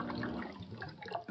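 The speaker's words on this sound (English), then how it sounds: "the hydrogen and oxygen bubbles are traveling with the water, are getting pumped into the reservoir" Water carrying hydrogen and oxygen bubbles from electrolysis is pumped into a reservoir in a homemade hydrogen torch setup, giving a soft, continuous gurgling rush of flowing liquid with no voices.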